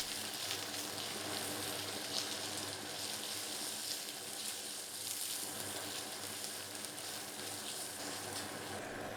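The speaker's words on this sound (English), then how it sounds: "Add sliced shallots and saute until soft, about 30 seconds." Sliced shallots sauté in shallot oil with a steady, broad sizzle that holds at an even level throughout, close and continuous with no talk.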